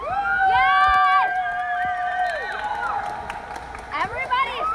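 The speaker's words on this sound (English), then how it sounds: "Everybody is cheering." A crowd of kids and adults cheers and shouts at a Great Wolf Lodge indoor water park, with bright excited voices rising over echoing background noise, close and loud before easing off, then picking up again near the end.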